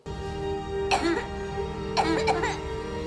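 Two short bursts of a young boy coughing, about a second apart, over a steady background hum.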